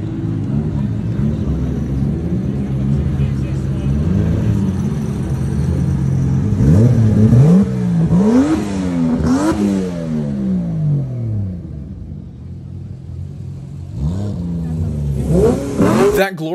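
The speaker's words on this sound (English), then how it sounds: "That glorious powertrain you just heard is an upgraded high-compression 2JZ GTE engine found in a Mark IV Toyota Supra." An upgraded high-compression Toyota 2JZ-GTE turbo inline-six swapped into a 1968 Ford Mustang convertible idles with a low steady rumble, then revs sharply several times, each rise and fall clearly audible, with another burst of revs near the end.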